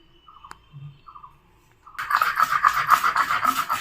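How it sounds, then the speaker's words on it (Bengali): Mustard and poppy seed paste being ground with salt, a dense rough scraping rasp starting partway through and continuing steadily up close after a few faint taps and squeaks. "সরষা পোস্তটা বেটে নিচ্ছি।"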